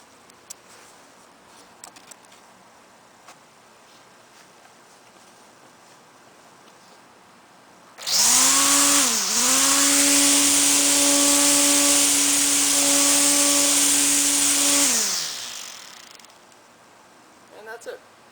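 An electric Stihl string trimmer starts up with a rising whine, holds a steady, fairly loud high-pitched hum for about seven seconds, then winds down. The surrounding moments are quiet apart from light outdoor noise.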